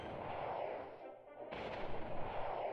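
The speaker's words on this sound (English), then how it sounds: "Perfect timing for the ion cannon." An ion cannon fires in the strategy game World Conqueror 3, a loud sustained roaring blast that dips briefly and surges again with rumbling impacts.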